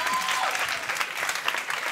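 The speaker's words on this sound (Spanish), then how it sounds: "Home, aplaudiu" A studio audience bursts into dense, steady applause, many hands clapping close together throughout with a little crowd noise mixed in.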